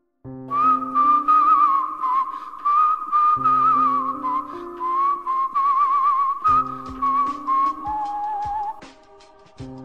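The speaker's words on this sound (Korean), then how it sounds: "제 귓가에서는 휘파람이나 꽹가리 소리가 울려 퍼졌습니다" Melodic whistling, a wandering tune with sustained and warbling notes over a low accompaniment, fairly loud and continuous with short pauses.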